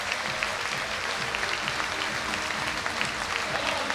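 A capacity crowd in a hockey arena in Tilburg rises for a standing ovation, with loud, continuous, dense clapping and crowd noise that fill the whole space evenly for several seconds.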